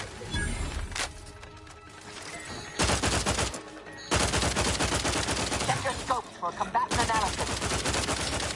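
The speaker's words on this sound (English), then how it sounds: "you can just shoot the gun like this and hit them" Gunfire in The Outer Worlds 2, with loud dense bursts of shots in several clusters over a busy game soundscape, broken by brief quieter gaps.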